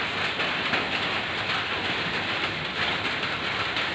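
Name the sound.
rain falling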